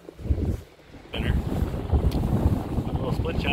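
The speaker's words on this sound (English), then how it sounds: "it gets a little windy today" Wind gusts buffet the microphone outdoors while yellow bass fishing in Fairmont, Minnesota, in fall, a steady low rumble rising after a brief lull, with water and boat noise in the background.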